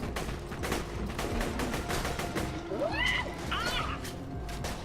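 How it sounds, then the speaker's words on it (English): Gunfire from a sniper rifle in the video game Borderlands 2 cracks out in a dense run of sharp, loud shots over a busy game soundscape, with a few whistling, swooping effects near the end. "Probably should use the sniper at this range."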